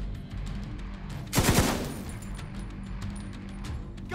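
Burst of gunfire from the video game The Division 2, a Metro Ruins control point fight: a short, loud automatic volley of a few rapid shots in the middle, over a steady background of game ambience.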